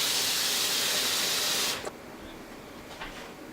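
A kettle or pot of hot water boiling for warming a hot oil hair treatment bottle gives a loud, steady steam hiss for under two seconds, then cuts off, leaving a quiet room with a couple of faint clicks.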